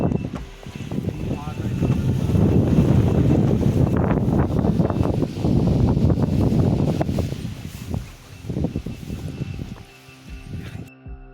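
Strong wind gusts rush past near a hillside cave entrance on Maruthwamala, buffeting the microphone in swelling waves that ease toward the end.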